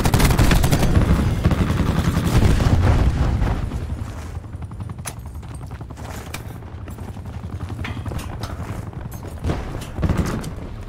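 Rapid automatic gunfire and explosive bursts from Call of Duty Black Ops 4, loud and dense at first, then easing into steadier firing with sharp cracks near the end.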